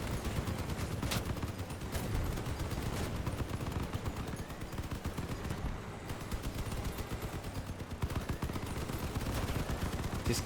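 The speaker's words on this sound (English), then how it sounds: "Just keep firing." Vehicle-mounted weapons firing in the Crossout video game: dense, continuous rapid gunfire and bursts that stay loud and steady throughout, with no pause.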